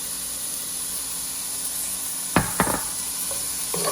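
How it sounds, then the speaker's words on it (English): Onion and garlic brown in a pan with a continuous soft sizzling hiss, joined near the end by a few sharp clicks and scrapes of utensils. "while my onion and garlic are nicely browning"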